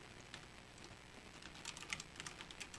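Quiet keystrokes on a computer keyboard while entering topics in the Xmind mind-mapping program, a loose run of soft taps and clicks near the end, with no talking.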